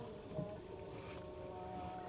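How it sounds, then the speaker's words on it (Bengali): A small country boat travelling along a waterway: a low, steady hum and gentle water wash with soft wind noise, faint and continuous over a short stretch. "আমি ছোট নৌকার উপরে আছি"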